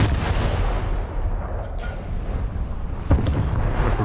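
A warship detonation in World of Warships: a deep, rumbling boom over continuous low battle noise, with a sharper blast near the end and no voices.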